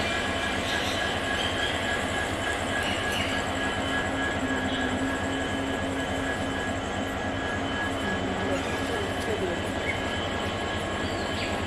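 A train's steady mechanical rumble and hum fills a railway station at moderate distance, with a constant drone and occasional faint clanks.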